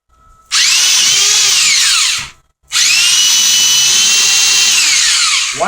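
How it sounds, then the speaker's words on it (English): A power drill bores a hole while building an L-Cheapo Mk2, two loud sustained whining bursts separated by a short pause, close and alone. "Drill through slowly,"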